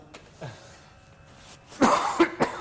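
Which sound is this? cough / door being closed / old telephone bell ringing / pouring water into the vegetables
cough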